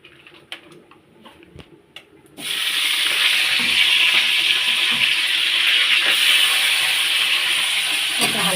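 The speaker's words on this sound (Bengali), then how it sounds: "তেলের মধ্যে আমি দিয়ে দেবো ক্যাপসিকাম" Capsicum dropped into hot oil in a home kitchen pan gives a sudden loud, steady hiss and sizzle after a quiet start, holding strong to the end with no talk over it.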